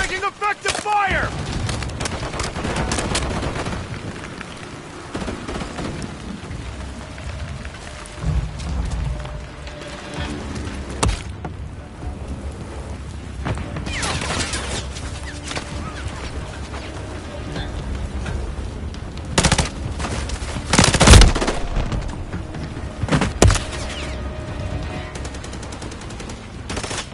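Gunfire in Modern Warfare 3 multiplayer as a hostile remote turret engages, with a steady rattle of shots and occasional louder bursts under a synthetic announcer voice and game noise.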